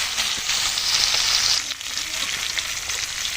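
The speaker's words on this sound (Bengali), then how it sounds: "এখানে চেষ্টা ভালো করে ভেজে নেব।" Small puti fish fry in hot oil with a steady, loud broadband sizzle and crackle that continues without pause.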